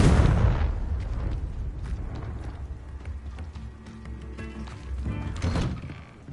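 A Confringo blasting spell goes off in Hogwarts Legacy, a loud, deep explosive boom with a rumbling burst that decays over several seconds, followed by smaller crackling debris sounds.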